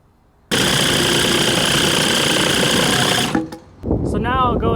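A power tool cuts through a board for a dumpster-rental string block, with a loud continuous whining buzz that runs for about three seconds, stops abruptly, then a short rattling burst follows.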